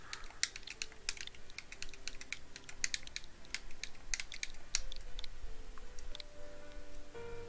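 Rapid, uneven keystrokes on a computer keyboard while entering a title, with clustered clicks near the microphone over a faint steady background hum.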